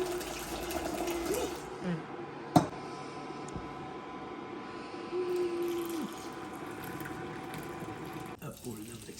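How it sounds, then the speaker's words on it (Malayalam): Boiled tea pulled between two vessels at home on Christmas Day, a steady rushing stream of pouring liquid with small clanks, one sharp metallic knock, while people talk over it. "ഇനി നമ്മൾ ചായ അടിക്കുകയാണ്."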